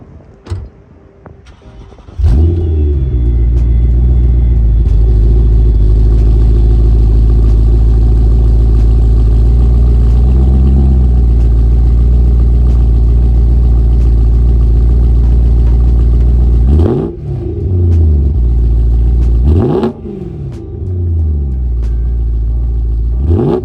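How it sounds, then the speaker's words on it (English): A BMW E92 M3 with an Active Autowerke exhaust fires up and settles into a loud, close idle, then gets a couple of sharp rev blips near the end before dropping back to idle. "I'm just going to give you a couple revs on my current Active Autowerke setup"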